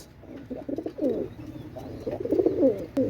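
Pakistani teddy pigeon, a blue-tailed male, cooing close by in a few soft rhythmic bursts, quiet and alone with no voices.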